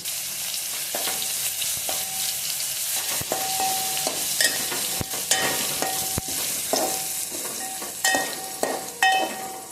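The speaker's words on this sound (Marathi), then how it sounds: "लसूण चांगला परतून घेऊयात आपण" Garlic paste frying with cumin and curry leaves in a pan for cabbage paratha, a steady loud sizzle with repeated scraping stirs and sharp spoon taps throughout, no voices.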